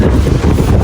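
Loud, steady wind buffeting the microphone in a short, continuous low rumble, at a coastal overlook in Dingalan, Aurora.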